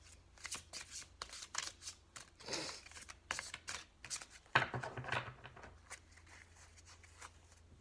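Tarot cards being drawn from a deck and handled, heard as a run of soft, quick papery rustles and flicks, close up and fairly quiet, with no voices.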